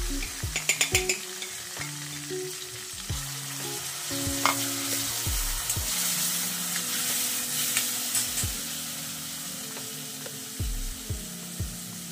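Lemon pickle mixture with jaggery cooks in a pan, with repeated scraping and stirring strokes of a spoon against the pan over a continuous low bubbling sizzle, close and clear.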